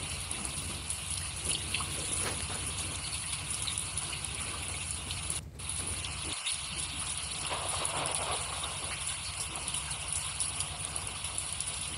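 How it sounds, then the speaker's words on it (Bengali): Heavy rain falls steadily near a swollen river, a dense, loud, continuous hiss and roar of downpour that lasts throughout with no breaks. "আপনারা দেখছেন প্রচুর পরিমাণে বৃষ্টি হচ্ছে"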